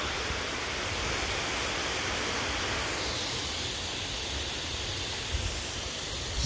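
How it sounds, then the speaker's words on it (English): A steady hiss of water spraying from a hose while watering a garden, continuous and close throughout, with a slight shift in tone partway through and no talking. "I'm just gonna keep watering."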